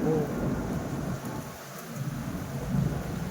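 Heavy rain pours down with loud, deep rolling thunder. The low rumble swells and fades over a steady wash of rainfall, close and strong throughout, with no voices.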